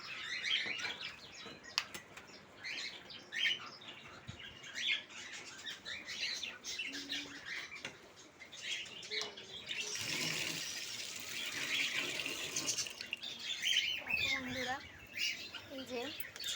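Small birds chirp and squawk in quick, bright bursts while waiting for chickpeas, with a rush of flapping wings midway and soft murmured talk in the background.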